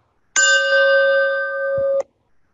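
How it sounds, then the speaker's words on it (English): A single bell rung to call an online meeting to order gives one loud, clear struck ring that sustains for about a second and a half and then stops abruptly. "Ring the bell."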